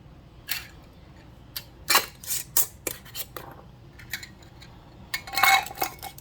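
Metal rings and lids are screwed down onto glass canning jars packed with raw turkey for pressure canning: scattered sharp metallic clinks and scraping twists, close and fairly quiet, in irregular bursts.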